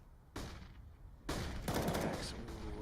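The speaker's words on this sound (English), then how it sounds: "He actually shoots Body, but the timing was there" Gunfire from a Counter-Strike pro match in a bomb-site rush: two sharp bursts of shots, a brief one early and a louder, sustained volley later, crackling over background game ambience.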